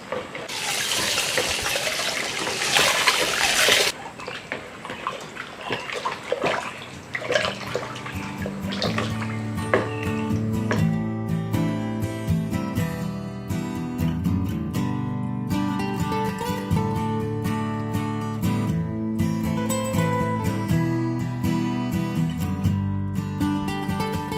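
Water is poured into a homemade soap mixture in a loud, rushing gush for a few seconds, followed by a long stretch of music.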